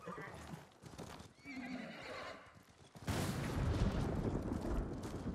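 A horse whinnies and snorts in Ghost of Tsushima, followed by a heavy burst of rumbling thunder and hoofbeats, with voices and game sounds mixed in.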